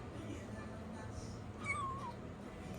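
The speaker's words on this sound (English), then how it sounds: "if you hear a chirping sound, that is our new kitten" A new kitten named Rigby gives a short high chirp partway through, faint beneath a steady low indoor hum and background voices.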